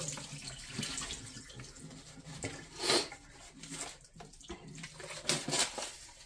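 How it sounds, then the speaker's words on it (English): Bacon juices poured out of a cut-open bag into a sink, a splashing liquid pour with intermittent gushes and faint clinks, moderately quiet. "we're going to dump all these juices out"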